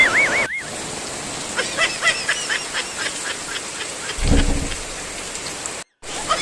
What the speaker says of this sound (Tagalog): ang lakas-lakas po ng ulan